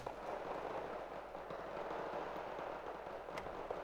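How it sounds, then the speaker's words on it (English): Distant artillery fire in the wartime strategy game Wargame Red Dragon, where friendly shells strike their own marines: a continuous broad rumble of blasts and crackling impacts, steady and dense throughout without clear separate booms. "they're now getting hit by their own artillery"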